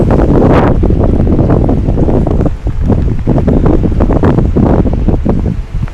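Loud, steady blustery wind roaring against the microphone outdoors in a garden after a night of rain, a continuous buffeting rumble with no break; no voices.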